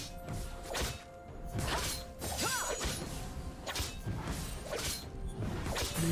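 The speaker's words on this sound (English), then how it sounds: "Blue team's turret has been destroyed." Repeated crashing, shattering impacts and whooshes as a turret is torn down in the video game League of Legends, several heavy hits spaced about a second apart over continuous game ambience.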